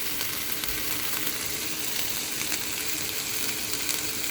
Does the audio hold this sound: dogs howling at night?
no